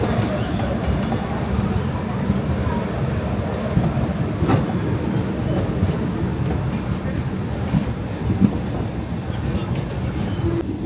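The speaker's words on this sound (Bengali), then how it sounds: "আমাদের ট্রেন ছেড়ে দিল আজিমগঞ্জ জংশন" A passenger train pulls out of Azimganj Junction with a continuous low rumble and rattle of wagons, occasional clicks and thumps over the rails, heard steadily from on board.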